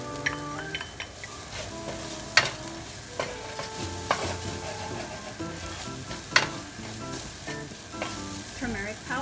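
Chilies and cumin seeds sizzling in hot oil, a bright, busy crackle with spattering pops and a few sharp stirring clatters throughout.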